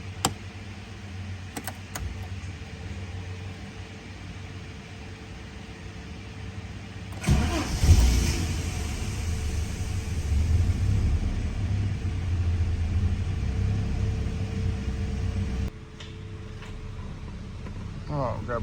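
A Ford Falcon EF is started, and after a quiet stretch its engine catches with a sudden rise into a steady, rumbling idle that holds for several seconds before dropping away, with some faint background noise.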